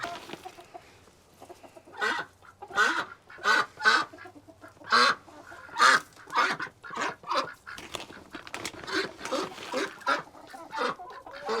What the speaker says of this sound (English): I'm going to go ahead and give my birds some right now, and you'll kind of see how they just tear into it